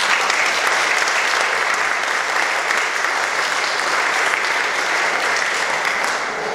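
Steady applause from a church congregation at a First Communion celebration, dense and sustained, filling the whole stretch without a pause.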